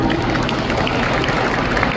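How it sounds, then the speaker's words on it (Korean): A large crowd in a convention center hall in Changwon applauds, a thick, continuous wash of clapping that holds at a steady level throughout. "여러분 박수 부탁드립니다"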